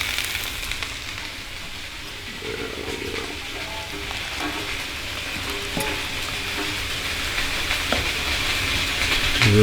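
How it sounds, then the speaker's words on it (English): Sausage and potatoes fry with a steady sizzle beside a pot of boiling snow water outdoors at a small cabin, with soft clinks and stirring noises; the sizzle grows slightly louder toward the end. "We've got some snow water here boiling beside the sausage and potatoes."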